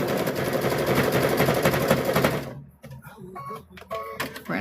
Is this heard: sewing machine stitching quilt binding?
yes